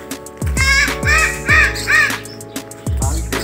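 Several harsh crow caws ring out in an irregular series at a beach resort in the Philippines, loud and close, with faint voices in the background.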